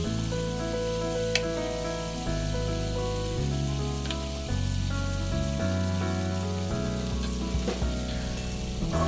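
Bitter gourd (ampalaya) and egg frying in a pan, a continuous loud sizzle under a bed of steady background music, with no speech.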